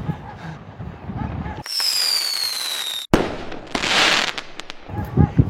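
Sky shot firecrackers from Sivakasi bursting outdoors: a rising whistle, then a loud bang followed by a spray of crackling pops, with a few more sharp reports near the end.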